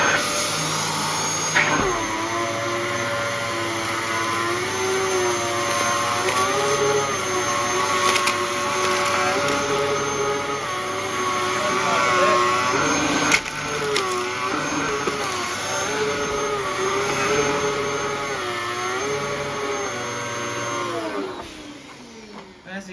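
A Dyson DC07 Standard upright vacuum cleaner runs continuously with a steady whining motor drone and a shifting tonal hum as it works over carpet, starting up and powering down at the ends, with no talk over it.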